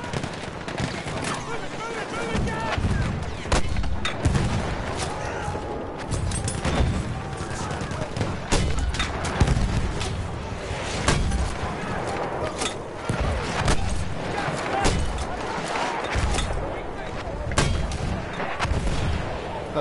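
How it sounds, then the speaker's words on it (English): Mortar and machine-gun fire rumble in a Battlefield 1 Turning Tides conquest match, dense repeated booms and rattling bursts overlapping in a busy, continuous battle din at moderate level, with no voice on top. "That was definitely mortar territory there"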